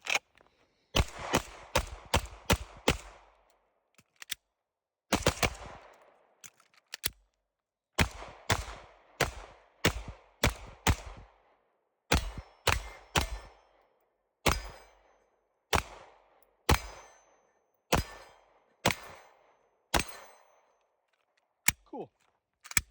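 A Smith & Wesson M&P 2.0 pistol with a 5-inch barrel is fired outdoors at a target seven yards away. Loud, sharp shots come one after another in quick strings of three to five, with short pauses between groups. No one talks.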